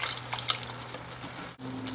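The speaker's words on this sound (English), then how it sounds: "I'm going to add the 300 mils of beef stock" Beef stock pours into a cooking pot in a steady liquid rush, close and moderately loud, then cuts off abruptly near the end and a low hum continues.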